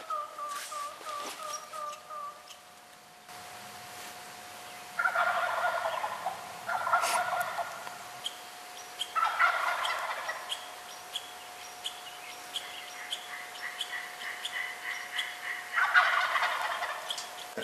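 Distant wild turkeys gobble in Idaho in several loud, rattling bursts spaced seconds apart, over a steady high tone and quiet outdoor background.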